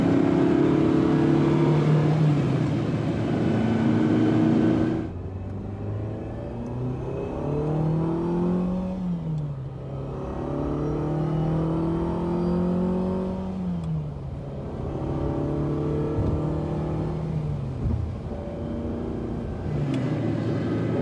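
A Ferrari 308 GTB Vetroresina engine pulls while driving, a loud close rumble rising in pitch through several acceleration sweeps after an opening roar.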